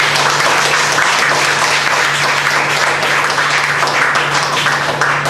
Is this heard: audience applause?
yes